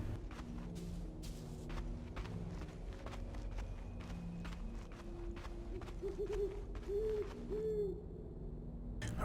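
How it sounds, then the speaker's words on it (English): Soft, low owl hoots repeat at intervals in the Far Cry 5 Arcade forest map, mid-distance, while footsteps crunch steadily along a trail underneath. "owl sound effects."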